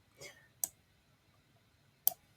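Two sharp mouse clicks on a browser menu in Microsoft Edge, the clicks spaced well apart in a quiet room, with a faint sound from the speaker just before them.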